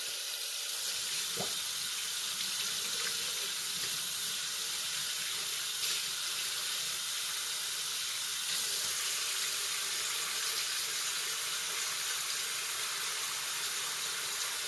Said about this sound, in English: rinse my sink out. And then I'll fill it halfway this time.